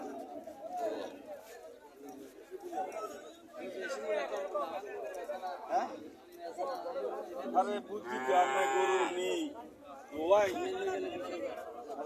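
Cattle low and moo amid a busy crowd of chattering voices at a cattle market in Cumilla, with one drawn-out moo standing out near the end over the steady talk.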